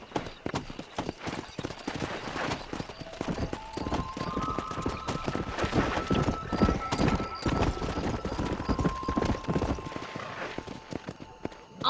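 Galloping horse in the Western game Red Dead Redemption, loud rapid clip-clop of hooves running continuously, with neighs and whinnies over the rhythm.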